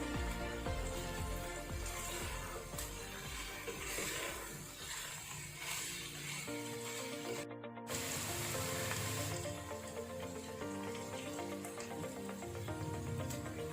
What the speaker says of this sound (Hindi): तो अच्छी तरह से पकाना है हमने। ताकि जो हमारे वेजिटेबल्स हैं वो अच्छी तरह गल जाएं।